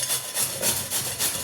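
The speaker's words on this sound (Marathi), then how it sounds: "चला पहिले आपण कोबी किसून घेऊया" Cabbage rubbed against a kitchen grater for cabbage paratha, giving a close, continuous rasping scrape in a few even strokes with no talking.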